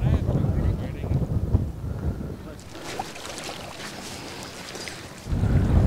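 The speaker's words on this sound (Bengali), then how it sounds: "জোর হাওয়া দিচ্ছে, তারপরে দেখুন রীতিমতো ঢেউ উঠেছে প্যাংগং লেকের জলে।" Strong wind sweeps over Pangong Lake as waves rise on the water, gusting loudly against the microphone in a steady roar that eases briefly before surging again.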